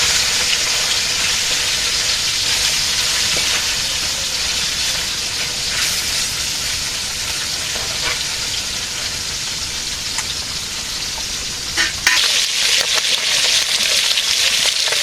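Fish, silver and bata, fry in hot oil with a loud, steady, close sizzle and hiss that carries through without a break, with a faint clatter near the end.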